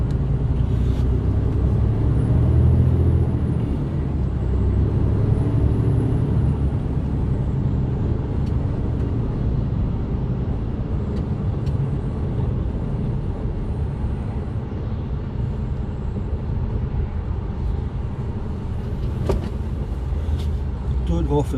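Steady road noise inside a moving car heard from the passenger seat, a low continuous rumble and hum with occasional faint clicks and rattles, persisting throughout with talk over it.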